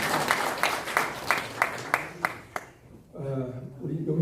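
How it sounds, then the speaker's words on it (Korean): A congregation at a church association's annual general meeting claps in encouragement and congratulation, a short burst of rhythmic claps that fades out, followed by a voice speaking. "격려와 축하의 박수 한번 보내겠습니다."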